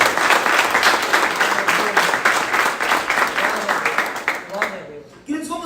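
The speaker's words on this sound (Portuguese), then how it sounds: "então aplauda o Senhor em nome de Jesus." A church congregation applauds, sustained crowd clapping and cheering that fades out toward the end before a voice resumes speaking.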